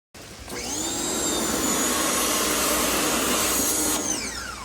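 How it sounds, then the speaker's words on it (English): A pressure washer runs steadily for several seconds, a loud, continuous high-pitched motor whine and spray hiss as it blasts weeks-old heavy grime off a surface, rising at the start and tapering off at the end. "And now for the pressure washer."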